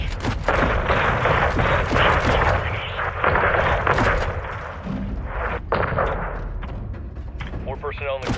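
Airstrike explosions in the Modern Warfare 2 campaign on PC, heavy booming blasts and rapid gunfire layered densely over one another, with radio chatter and shouted voices throughout.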